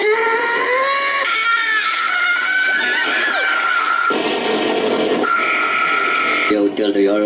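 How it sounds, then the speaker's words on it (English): Evil Neuro, an AI VTuber voice, lets out a long, loud synthetic scream that wavers in pitch, near and continuous for several seconds with shifting, strained tones. "Let's all scream together."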